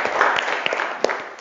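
A classroom of children in an Indonesian lesson clap their hands together in a brief, dense burst, with a few sharper individual claps poking out near the end.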